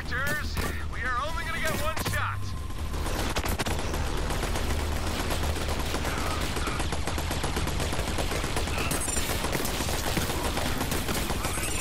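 Rapid turret gunfire in the video game Borderlands 3, a dense fusillade of fast automatic shots and blasts hammering on continuously after a brief opening of game sounds.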